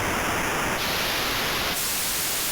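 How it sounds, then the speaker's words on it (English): Synthesizer noise-wave notes sound as loud, continuous hissing static, stepping upward in pitch through three abrupt changes over a few seconds, with no talk. "Here is a series of noise wave notes increasing in frequency."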